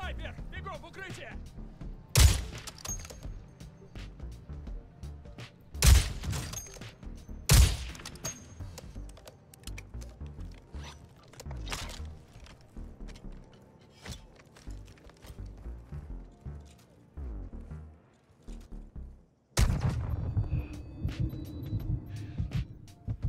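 Sharp gunshots crack out in Warzone 2 DMZ, with several loud isolated reports spaced seconds apart over a busy game background and a heavier burst of noise near the end, while someone talks throughout.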